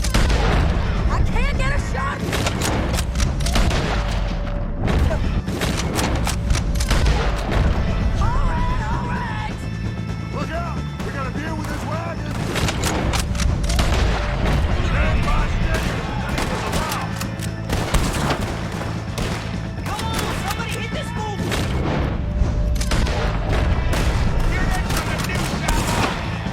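Gunfire in a Red Dead Redemption 2 shootout: a dense string of sharp reports and bursts runs almost unbroken for the whole stretch, loud and close, with voices talking over the shooting.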